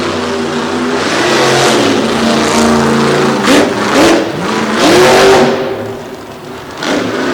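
Monster truck with a 557 cubic inch engine revving hard at a Salisbury monster truck show, loud close engine roar rising and falling in several surges.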